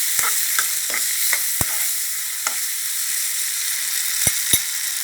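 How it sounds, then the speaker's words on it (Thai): Gourd stir-fries with fermented soybean paste in a hot pan, a loud constant sizzle and hiss punctuated by several sharp utensil clacks against the pan, close up and without speech. "ผัดให้แตงโดนความร้อนหน่อย"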